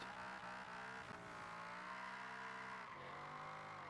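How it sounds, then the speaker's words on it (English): A supercar reverse drifts in Forza Horizon 4, its engine droning steadily with harmonic tones that dip and shift as the revs change, alongside a sustained tire hiss, loud and continuous throughout. "this is reverse drifting"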